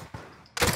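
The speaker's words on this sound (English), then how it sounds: "Somebody else is shooting." Gunfire in Call of Duty Warzone on Alcatraz Rebirth Island: a faint shot, then a loud close burst at the end, with no talk.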